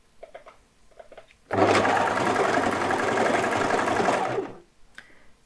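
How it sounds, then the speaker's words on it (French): A sewing machine stitches elastic in one steady burst of about three seconds, loud and close, with quieter handling noises before and after. "je préfère quand même faire l'élastique à la machine à coudre"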